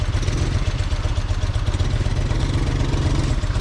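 A 1978 BMW R80/7 ex-police motorcycle's boxer twin idles close up, a steady low-pitched loping throb with a light mechanical clatter and no voices.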